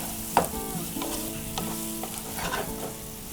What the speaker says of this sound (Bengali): এটাকে আমি একটু জাস্ট 1 মিনিটের মতো আমি এটা ভেজে নেব ভালো করে।